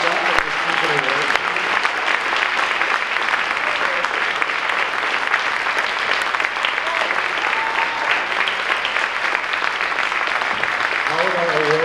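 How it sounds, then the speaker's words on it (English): Sustained audience applause at a high school band spring concert honoring award recipients, a thick, continuous crowd of clapping lasting about twelve seconds, with faint voices mixed in beneath. "Can we have one more round of applause for all our awards?"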